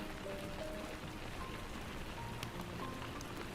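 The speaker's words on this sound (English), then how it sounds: "I think there is rain on the music that I have playing" Steady rain patters softly in the background of music, a faint, even hiss with scattered drops and no talk.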